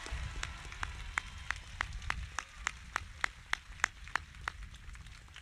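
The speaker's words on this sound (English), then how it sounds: "let's please give them a big round of applause." Faint, steady clapping at a high school graduation ceremony, in an even rhythm, crisp individual claps at a slow pace over a quiet, hollow room background.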